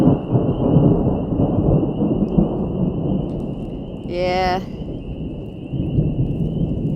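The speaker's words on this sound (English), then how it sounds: "And of course, it's raining and thundering" Thunder rolling and rain falling on a dirt road along the Ozark Highlands Trail, a deep ongoing rumble under steady rain with a high constant tone, and someone speaking briefly.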